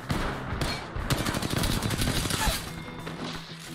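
Rapid automatic gunfire in Apex Legends, a close, loud stream of evenly spaced shots lasting a few seconds, with a couple of separate shots before it and the fire tapering off at the end.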